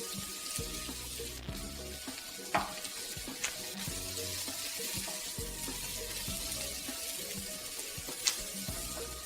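Onions and garlic sautéing gently in a pan for chicken cashew, a soft steady sizzle with small clinks and stirring knocks, close and fairly quiet, with no talking.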